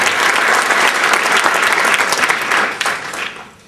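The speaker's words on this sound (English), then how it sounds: "a big round of applause for these 5 finalists and the outstanding worker of the" A room full of people at a work recognition event applauds award finalists with loud, dense, sustained clapping that tapers off and fades in the final second.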